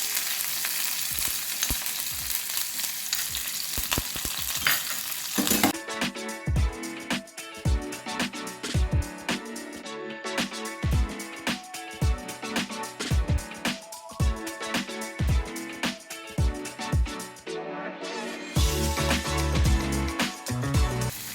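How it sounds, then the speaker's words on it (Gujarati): Onions and curry leaves sizzle loudly in hot oil after mustard seeds crackle, frying steadily for upma, with repeated scrapes and clatters of a spoon stirring the pan throughout. "હવે આપણે અંદર લીમડાના પાન નાખીશું અને સાથે ડુંગળી છે, થોડી ડુંગળીને આપણે સાતળી લઈશું"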